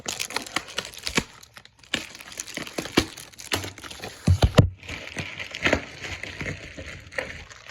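A Funko Pop box is cut open, with plastic and cardboard packaging crinkling, tearing and crackling in irregular bursts close by, and a few sharper snaps midway.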